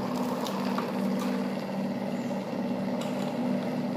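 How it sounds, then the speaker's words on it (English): A motor driven by a homemade 3-phase BLDC controller runs with a steady, continuous hum throughout, moderately loud, with no talking. "Now I am going to test the"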